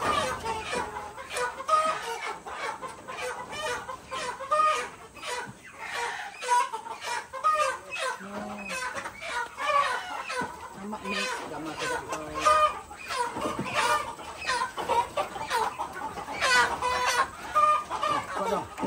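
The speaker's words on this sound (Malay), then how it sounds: "Ini ayam dia tengok. Memang banyak betul." Many chickens cluck and chatter together, a busy flock close by with steady overlapping calls and occasional voices mixed in.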